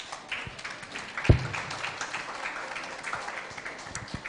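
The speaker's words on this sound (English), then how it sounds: "And so let's clap our hands." Audience at a Naga City youth address clapping hands in a hall, a soft, steady patter of applause with one sharp louder clap near the start.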